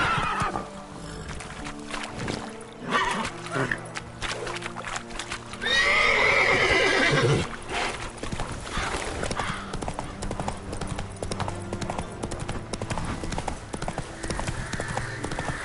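Roach the horse from The Witcher 3 gallops with steady hoofbeat clip-clop and lets out a loud, close whinny midway, all under game music and ambience.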